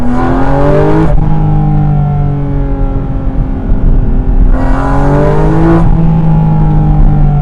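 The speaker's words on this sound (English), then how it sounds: "Yeah, this car picks up and goes." A Porsche GT4 RS Weissach with a 4-liter naturally aspirated flat-six pulls hard from inside the cabin, its loud rising engine note climbing through the revs, dropping briefly at a smooth upshift and climbing again.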